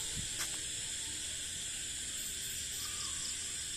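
Crickets and other insects call at night in a Bangladeshi village, a steady high shrill hiss of overlapping chirring with no pauses, with faint low rustles underneath.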